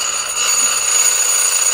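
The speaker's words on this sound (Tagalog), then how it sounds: "amber flashing alarm is humming" An amber flashing alarm horn on a control circuit gives a steady, loud, high-pitched electronic buzz that drones on without a break for the whole short stretch, with no talking.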